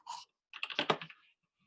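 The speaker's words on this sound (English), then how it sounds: "good to hear a good solid keyboard" Typing on a solid-sounding computer keyboard, a short burst of close key clicks, a brief pause, then a denser run of keystrokes that trails off, with no voices.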